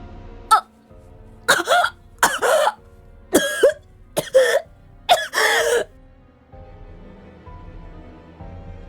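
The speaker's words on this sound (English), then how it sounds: "started to violently cough" Violent coughing fits, about six harsh, raspy bursts in quick succession over several seconds, close and loud, then quieting to a low background.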